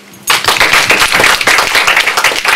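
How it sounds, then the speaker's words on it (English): An audience at a property business event breaks into loud, close, steady clapping that starts abruptly and continues without talk. "So I think that deserves a clap."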